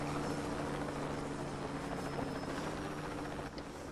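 A helicopter's steady rotor drone in the video game Just Cause 2 fills the scene, a continuous loud thrum with a low pulsing hum that holds evenly throughout.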